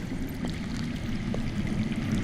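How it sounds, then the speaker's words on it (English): Faint flowing water murmurs from underground in the Game of Thrones Telltale video game, a low steady trickling wash with no talk. "I hear water."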